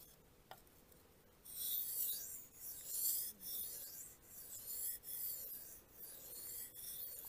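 BPS Savage bushcraft knife blade stroked across Suehiro whetstones, a series of close, steady rasping passes in an even rhythm, each sweep lasting about a second, with no talk.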